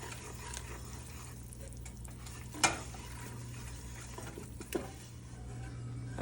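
A flour roux cooks in a pot for chicken and sausage gumbo, giving a low steady sizzle while a spoon scrapes and stirs, with two sharper knocks against the pot standing out over the quiet bubbling.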